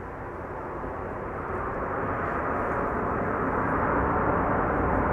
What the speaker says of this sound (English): The mic is still pointing in the direction of the airplane, so you can still hear its reversers being applied here.